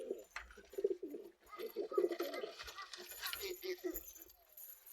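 Pigeons cooing in soft, repeated low throaty calls close by, heard under people talking, with some light clinking and handling noise around them.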